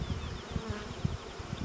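Bees buzz around an opened hive as a beekeeper slides a hive part into place, a soft, continuous hum with faint thumps of handling nearby.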